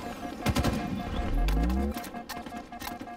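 Gunfire in a Halo Infinite multiplayer match: rapid sharp bursts of shots, some close and loud, others scattered, over a deep rumbling blast and steady game background noise.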